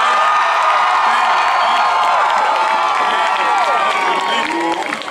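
A homecoming pep rally crowd roars for the band, with loud sustained cheering, whoops and shouts mixed with applause, the din filling the space continuously with high excited voices.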